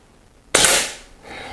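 An Air Arms S400 air rifle fires a single AirArms Field 4.52 mm pellet, giving one sharp, loud, close crack that decays over a fraction of a second against quiet background noise.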